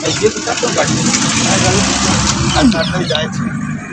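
An Activa motor scooter engine hums and drones close by as it rides over a damaged, sunken bridge, rumbling steadily with shifting pitch, while faint voices and traffic noise mix in around it.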